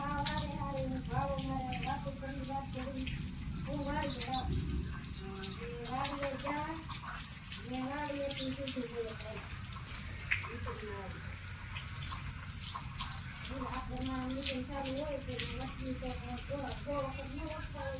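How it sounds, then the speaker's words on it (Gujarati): Steady light rain falls continuously, a soft even patter with scattered drips, while a voice talks over it throughout. "અત્યારે હજી ધીમે ધીમે વરસાદ ચાલુ છે"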